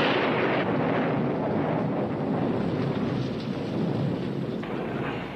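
Deep, continuous rolling thunder from a heavy storm, a broad, steady rumble lasting several seconds with no voices.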